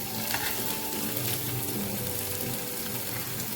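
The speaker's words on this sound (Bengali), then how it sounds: "একটু লাল করে জাস্ট ভেজে নিই" Paneer pieces fry in a pan with a steady, close sizzle and faint stirring scrapes, continuous throughout with no talking.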